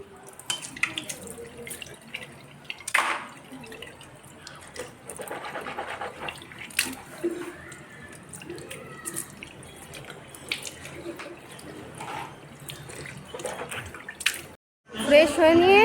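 Tap water runs into a sink while someone washes their face, with faint intermittent splashing and trickling broken by sharper splashes and rustles, ending in a louder gush.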